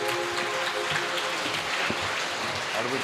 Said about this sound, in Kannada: ಒಮ್ಮೆ ಗಟ್ಟಿಯಾಗಿ ಎಲ್ಲರೂ ಚಪ್ಪಾಳೆ ತಟ್ಟಿ ದೇವರನ್ನು ಮಹಿಮೆ ಪಡಿಸಿ